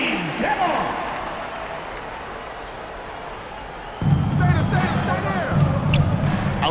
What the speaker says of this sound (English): A round of applause for your Spurs Hype Squad dance team.